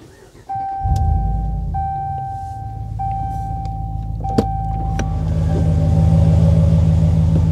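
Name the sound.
Ram Rebel truck engine starting and running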